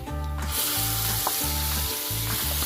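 Masala paste of onion, ginger, garlic and mustard fries in a pan with a loud, continuous sizzle, while a low humming drone pulses underneath in regular bursts.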